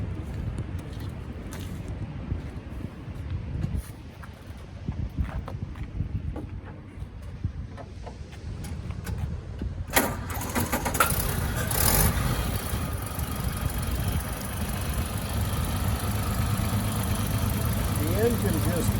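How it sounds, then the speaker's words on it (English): A 1928 Hupmobile Victoria Opera Coupe engine turns over and settles into a steady, low idle, rumbling evenly and smoothly at moderate volume after a brief start. "The engine just purrs. It's very smooth."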